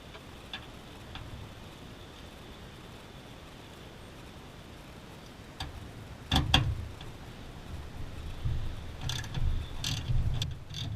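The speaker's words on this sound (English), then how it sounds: "I can get to these 3 hinge bolts, so I'm just going to pull the bolts off" Hinge bolts being removed from a door on a square body Chevy truck: quiet workshop ambience with faint clicks, then a few louder metallic ratchet bursts and clanks toward the end.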